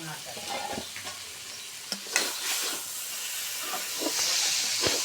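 Potato and taro pieces frying in a pan produce a loud, steamy sizzle and hiss with occasional scraping stirs and clinks, close up, rising toward the end, and no voices.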